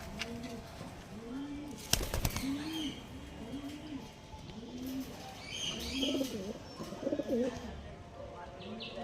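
Pigeons coo repeatedly in rounded, bubbling calls close by, with a sharp clatter near the start and some background murmur.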